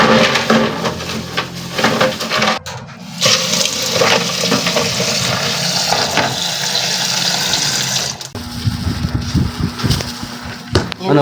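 Water runs from a kitchen tap into a container being filled halfway, a steady splashing gush that shifts in tone partway through as the vessel fills.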